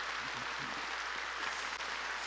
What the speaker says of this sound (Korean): 하나님께 박수 칩시다.